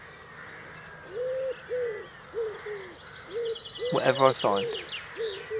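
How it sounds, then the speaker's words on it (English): Birds calling outdoors in misty countryside, a repeated hooting, cooing call in short phrases with a brighter burst of song midway, while someone speaks briefly over it. "I'm just enjoying the deafening sound of the birds."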